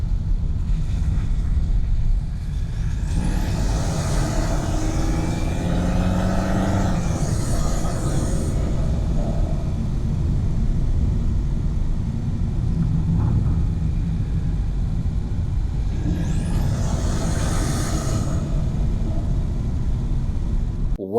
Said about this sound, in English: You press the button and you can hear the turbo.